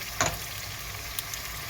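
Eggplant frying in a pan gives a steady, dense sizzle up close, with a brief louder hiss at the start and a couple of small crackles.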